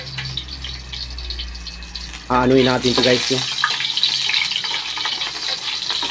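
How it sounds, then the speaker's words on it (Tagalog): Leafy vegetable shoots rinsed under a running kitchen tap, a steady hiss of water that grows louder and splashier as the produce goes under the stream, with a person talking over it. "Hugasan muna natin yung ano. At habang pinapatuluan natin ng tubig"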